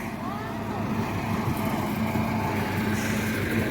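Tractor engine straining to pull a stuck tractor trolley on a vermicompost farm near Multan: a steady, moderate low rumble that runs without a break.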